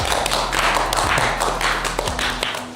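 Faker, the esports player, claps his hands. A steady run of close, sharp claps repeats several times over a low background hum.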